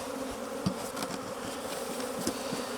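Honey bees flying around a hive, a continuous close buzzing drone with individual bees passing nearer now and then, no voices.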